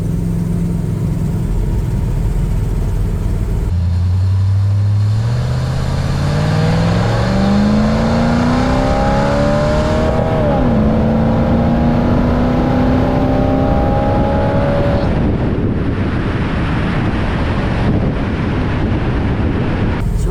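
A 1969 Camaro Super Sport engine climbs steadily in pitch as it accelerates hard, shifts once into third gear, then keeps pulling with a loud, rising drone over road rumble.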